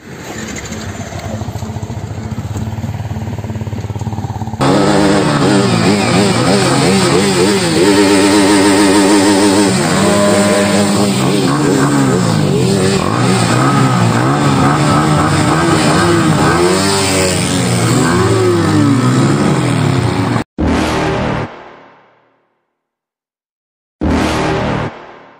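A motorcycle on an Independence Day ride to Meghalaya rumbles loudly and steadily, the engine note rising and shifting as it accelerates, then cutting out abruptly near the end with brief silence.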